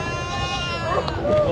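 Goats bleat at a crowded goat market in Dina, Jhelum, with a few wavering calls rising over a dense bed of crowd chatter and people talking nearby.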